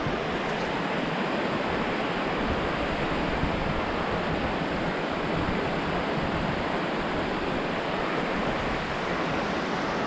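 River rapids rush beneath the Toccoa swinging bridge near Blue Ridge, Georgia, a loud unbroken roar of churning whitewater that holds steady throughout, close and dense with no voices over it.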